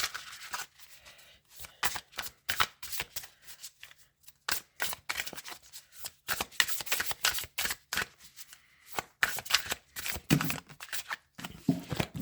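A deck of tarot cards is shuffled by hand, giving crisp repeated riffling and slapping bursts in an irregular rhythm, close and fairly quiet, with no talk during the shuffling.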